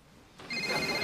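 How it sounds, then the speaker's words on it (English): An office telephone starts ringing after a brief quiet moment, its bright electronic ring rising sharply and continuing to the end. "Phone."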